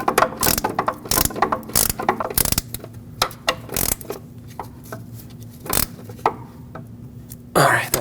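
A ratchet tightening bolts on the front upper control arm of a Lexus IS250, with loud rapid clicking bursts repeated in quick strokes and short pauses between them.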